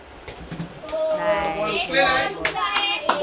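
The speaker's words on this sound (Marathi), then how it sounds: "टाळ्या." Hands clap in a lively burst of applause from a small group, mixed with a voice speaking and some cheering.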